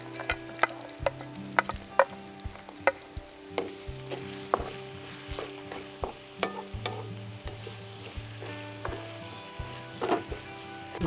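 Chopped onions frying in a pan for Kerala-style chicken, a steady close sizzle with repeated soft scraping and clicking stirs throughout, no voices.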